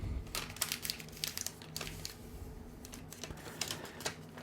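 A sheet of paper is creased and folded into a paper airplane at close range, with intermittent soft crinkles, rustles and sharp taps from handling in a quiet room.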